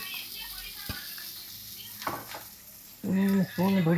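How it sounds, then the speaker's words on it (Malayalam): Coconut oil sizzles steadily in a pan as ingredients sauté, with stirring scrapes and clinks and a voice briefly speaking near the end. "ഇതിൽ 4 സ്പൂണ് വെളിച്ചെണ്ണ ഒഴിച്ച് നല്ലോണം നല്ലോണം വാട്ടി വരണം."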